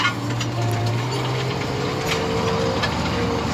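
A Case IH 956 XL tractor pulls a new soybean field-preparation implement in second gear with front-wheel drive engaged, a steady, even engine drone with rattling tool noise, constant and moderately loud throughout.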